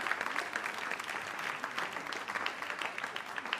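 Audience applause at a Mother's Day event, a dense steady clatter of many hands clapping throughout, fairly close and even in loudness.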